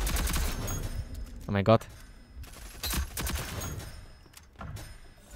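In the shooter game Rogue Company, a short rapid burst of gunfire fired at a wall cuts through quiet background game sound, and a voice speaks briefly.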